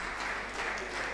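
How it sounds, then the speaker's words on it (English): Applause from the audience at a public health grand round as a pharmacist is welcomed, a steady, moderately distant wash of clapping held for about a second. "A round of applause for Pharmacist"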